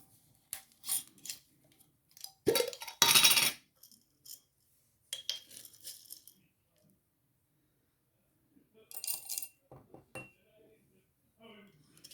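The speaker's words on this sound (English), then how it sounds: "I'm actually going to add 2 teaspoons of cloves." Cloves measured out by the teaspoon for a Samhain oil blend give scattered small clinks, rattles and scrapes of spice and metal against glass, with a louder burst of clattering midway and soft taps after quiet gaps.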